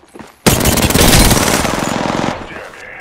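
Hemlok rifle firing in a video game, a loud close sustained burst of rapid shots lasting about two seconds, then cutting off.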